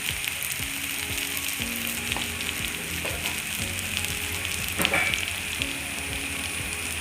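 Breadfruit slices fry in a pan with chili and turmeric powder, giving a steady close sizzle broken by the scraping strokes of stirring. No one speaks.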